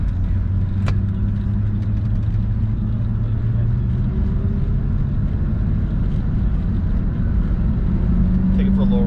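Ford SVT Cobra Terminator driving, a steady loud engine drone and road rumble from inside the car, holding one pitch before a slight rise near the end.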